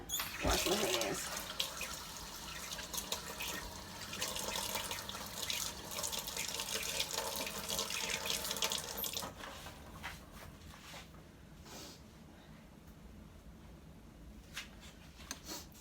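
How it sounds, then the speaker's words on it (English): Tap water runs steadily from a kitchen faucet over hands being washed, a loud broadband rush for about nine seconds that then eases into quieter trickles and splashes. "Wash my hands."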